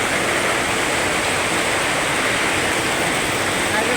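Heavy night rain pours onto a house roof in Dasmariñas, Cavite, a loud, unbroken wash of hiss and roar with a faint voice barely present beneath it.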